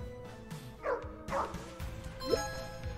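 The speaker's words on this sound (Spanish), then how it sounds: "¡El perrito!" A dog in the video game Undermine gives a few short yips and barks, spaced out over a quiet game background with steady tones.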